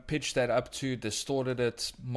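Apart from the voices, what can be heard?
No distinct noise like a dog, phone or traffic.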